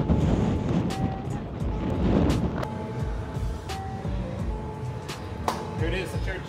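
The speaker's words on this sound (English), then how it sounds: "try to take cover from this crazy wind" Strong gusty wind in the old town of San Juan, Puerto Rico, buffeting the microphone in loud rumbling bursts, with people talking intermittently amid street sounds.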